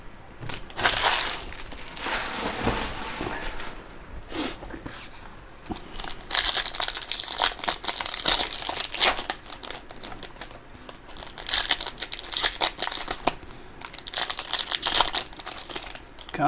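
Foil trading card packs from 2023 Panini Elite football boxes being torn open, with loud, continuous crinkling and ripping of wrappers in repeated bursts across the stretch, close up and with no talking.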